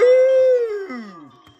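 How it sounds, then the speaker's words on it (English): A cartoon puppy's voiced bark is drawn out into a single long, howl-like call that slides downward in pitch and fades, loud and alone. "Now bark, George."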